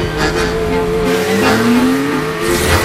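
Nissan Maxima four-door sports car driving hard, a steady loud engine drone with rising revs and tire squeals, continuous and close throughout.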